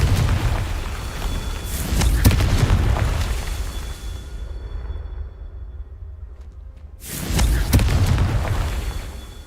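A Confringo spell blast in Hogwarts Legacy booms out as a loud, deep explosion, then fades through a rumbling tail before a second heavy burst hits near the end.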